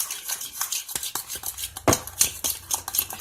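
DIY slime made with lotion, stirred in a bowl with a utensil, giving close, quiet scraping and light clinking strokes in an uneven rhythm with no talking.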